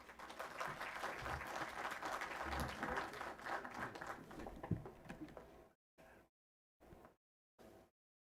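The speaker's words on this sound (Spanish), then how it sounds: "Un aplauso," An audience at an ethics lecture on child protection applauds the arriving speaker with sustained, dense clapping for several seconds, then a few brief bursts of sound after it stops.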